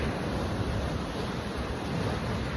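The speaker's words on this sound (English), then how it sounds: "big wave just came." A big ocean wave surges against the rocky California shoreline, a full low roar and wash of churning surf, loud and close, with wind buffeting the microphone throughout.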